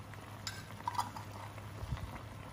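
Thick homemade plain yogurt, made with cream, is spooned into a pot of mutton for mughlai mutton do pyaza, giving soft, faint scrapes and a few light clinks in a quiet kitchen.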